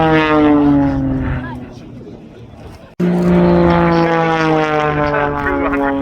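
A World War II propeller warplane flies a display at the RAF Cosford Airshow. Its engine drones loud and steady, fades somewhat midway, then cuts back in sharply and stays strong to the end.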